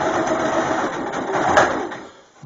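A sewing machine stitching a rear seat handstrap, running in reverse and then forward, a steady close mechanical whirr that fades out near the end before a brief knock.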